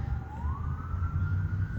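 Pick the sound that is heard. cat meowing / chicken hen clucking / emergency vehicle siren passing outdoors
emergency vehicle siren passing outdoors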